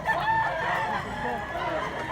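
A rooster crows at a rural market in Mantalongon, Cebu, its harmonic call rising and falling through the clip over a busy background of clucking fowl and murmuring voices.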